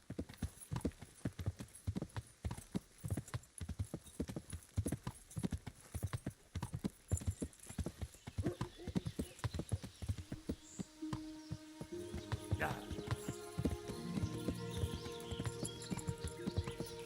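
Hooves clip-clop steadily as a horse gallops in a medieval video game set in Bohemia, loud and rhythmic throughout, joined near the end by a low droning hum and faint background tones.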